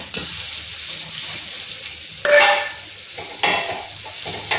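Onion goes into bitter gourd already frying in a pan, a steady sizzle broken by two loud bursts of sizzling as the pieces are stirred.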